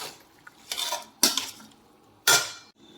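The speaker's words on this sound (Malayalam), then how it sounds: "ഇനി ഇത് നമ്മൾ ഇളക്കി കൊടുക്കണം" Jackfruit being stirred with turmeric and salt in a pan: three separate bursts of a utensil scraping and clinking against the pan, close and fairly quiet, with short pauses between them.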